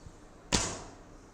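A Turkish laminated bow releases an arrow: a single sharp snap of the string, followed by a short fading vibration, close and alone.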